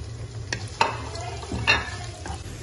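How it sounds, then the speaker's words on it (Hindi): Finely chopped onion, medium-sized, sizzles in hot oil with a soft steady frying hiss, punctuated by a few clinks and scrapes of a spoon stirring in the pan, close and fairly quiet. "हमारा जो ऑयल है वो गर्म हो चुका है। अब हम इसमें एक मीडियम साइज का प्याज है बारीक कटा हुआ वो ऐड करें"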